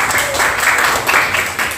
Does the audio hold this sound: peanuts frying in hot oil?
no